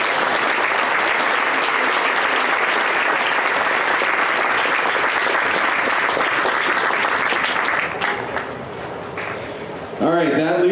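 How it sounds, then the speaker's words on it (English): Audience applause fills a hall at the Minnesota State Fair FFA awards, steady and loud for about eight seconds before tapering, with a voice beginning to speak near the end. "Let's give her a round of applause"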